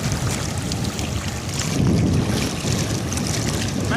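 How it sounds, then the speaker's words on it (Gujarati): Heavy rain falling onto floodwater covering a road, with water rushing past in a steady, dense wash and broadband roar that swells slightly in the middle; wind buffets the microphone throughout. "અને વરસાદ હજી ચાલુ જ છે"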